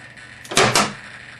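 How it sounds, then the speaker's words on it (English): Landing gear retracting and gear doors closing on a CompArf Ultra Lightning RC jet model; a short mechanical whir followed by two quick close clacks, near and fairly loud, with quiet background otherwise. "So this would be a gears up sequence."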